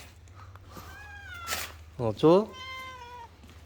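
A cat meows several times up close, drawn-out and then a sharper, louder call, while a person speaks briefly.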